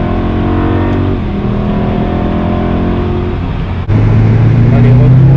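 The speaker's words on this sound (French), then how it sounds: "le V8 atmosphérique de la M3 E92, à mon avis c'est ça. C'est le son Motorsport que vous entendez là mes amis." A BMW M3 E92's naturally aspirated V8 revs loudly and close up, holding a steady high drone, dipping briefly, then surging to a harsher, louder pitch near the end.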